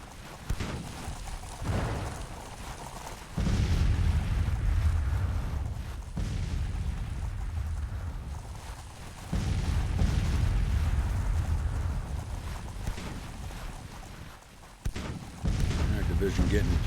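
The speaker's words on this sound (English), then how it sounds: "Look at all that artillery." Artillery fire from a Union Civil War battle at Harpers Ferry, summer 1861, in the strategy game Grand Tactician: The Civil War, a sustained rumble of heavy booms, with talk running over it.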